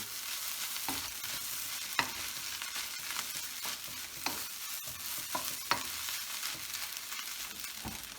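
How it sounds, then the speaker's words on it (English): Fried rice ingredients being stirred in a hot pan, a steady sizzle with scattered scrapes and clinks of the utensil against the pan, close and moderately quiet. "we'll stir them in, or we'll turn them in, but they won't cook for long"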